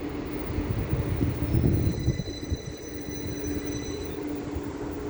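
A Northern Class 150 diesel train departs Leeds station for Blackpool North with a steady rumble and rolling wheel noise, high squeals of the wheels drifting through the middle, loud and continuous.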